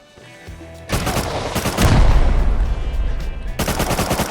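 Rapid automatic gunfire in the survival game Rust erupts after a quiet start, continuing as loud, dense bursts, pausing briefly, then resuming.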